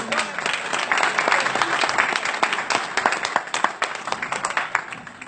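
A church congregation applauds and acclaims the Lord, a dense round of clapping with some crowd voices that thins toward scattered individual claps at the end.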